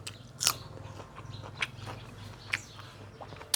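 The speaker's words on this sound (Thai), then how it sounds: "กัดปีกดีเลยพ่อ" Several sharp, crunchy bites into a steamed frog dish wrapped and cooked in leaves, spaced irregularly over a low steady background hum, close and fairly quiet with no talk.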